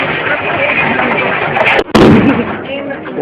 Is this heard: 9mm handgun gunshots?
yes